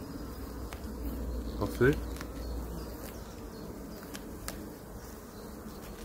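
Honeybees hum at an open hive during inspection, a steady soft drone with a brief louder burst near the middle; a voice speaks one short word.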